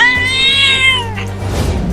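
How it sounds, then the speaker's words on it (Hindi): A cartoon cat meows loudly in one long, drawn-out wail, followed by a brief rising squeal and some low background noise, alone with no talk. "अरे वो बिल्ली तो मेरा ये बड़ा लालमी लेने के लिए आ रही है"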